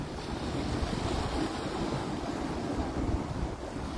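Ocean surf washes onto a beach in Hawaii at sunset, a steady, moderately loud roar of breaking waves mixed with wind buffeting the microphone, with no speech.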